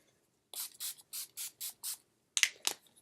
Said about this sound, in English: now I'm just going to spray my face with my NYX setting spray